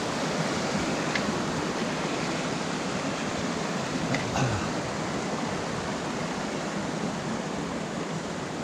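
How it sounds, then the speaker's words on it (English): Steady broadband rush of running water from mountain streams on a Carneddau hillside walk, continuous and fairly close, with no talk over it. "Nice relaxing sound of running water."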